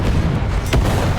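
A Panzer III M tank firing a high-explosive shell in War Thunder, one deep booming cannon shot partway through over a low rumbling engine drone.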